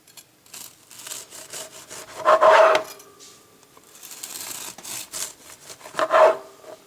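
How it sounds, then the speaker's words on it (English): A knife saws back and forth through a loaf of homemade banana bread with peanut butter, making soft, crumbly rasping strokes up close, in two louder bursts separated by quieter cutting. "I'm going to go ahead and cut a few slices here."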